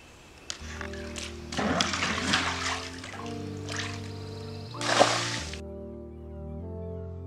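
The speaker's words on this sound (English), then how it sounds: "I've got to use a bucket and do this bailout" Water sloshing and splashing as a bucket bails out an above-ground backyard pool, with a few bursts of pouring and dumping, the loudest near the end, close by and with no talking.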